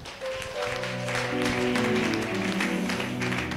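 A church congregation applauding and acclaiming the Lord, steady clapping that swells in after a brief pause and holds, with sustained tones and voices mixed in.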